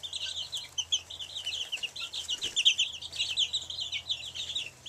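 Young baby chicks in a small flock peep continuously, with high, busy chirps overlapping and fluttering in and out, fairly close and moderately quiet.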